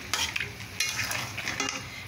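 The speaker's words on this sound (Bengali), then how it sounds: "এখন ভালো করে নেড়ে চেড়ে নিচ্ছি মাটনটা" Mutton with garam masala is stirred in a pan, a close sizzle that keeps going under quick, repeated scrapes and clinks of a spoon against the metal.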